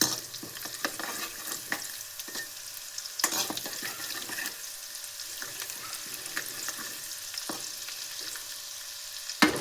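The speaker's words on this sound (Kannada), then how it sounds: "ಸ್ವಲ್ಪ ಬೆಳ್ಳುಳ್ಳಿ ಫ್ರೈ ಆಗಲಿ" Chopped garlic fries in hot oil in a pan, making a continuous bright sizzle with repeated scraping stirs and utensil clicks spread through the clip, and no one talking.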